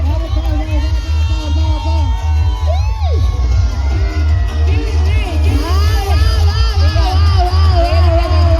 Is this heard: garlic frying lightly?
no